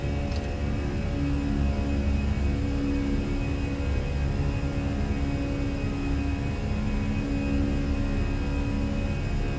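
Airliner engines at climb throttle in Microsoft Flight Simulator, a steady, loud broadband roar with a low rumble and faint tonal hum, holding constant without pause or talk.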